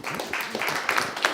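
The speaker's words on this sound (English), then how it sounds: "Big round of applause." Brief burst of audience applause at a live body language talk show, a short, close patter of many hands clapping.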